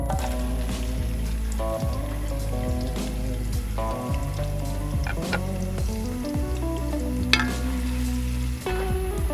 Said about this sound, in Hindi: कुकिंग ऑयल हमारा गर्म हो गया है। अब हम इसके अंदर प्याज